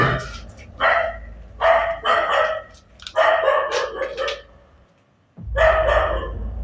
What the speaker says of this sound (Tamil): நாய் வேற கத்துது பட்டா.